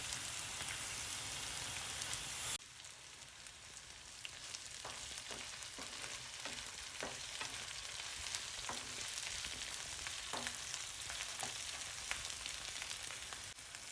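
Garlic fries in a pan for garlic pickle with a continuous soft sizzle and crackle, joined by faint scattered taps of stirring.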